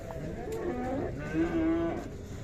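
Young bulls lowing at a livestock market, several drawn-out moos overlapping in close succession against a steady hum of crowd and yard noise.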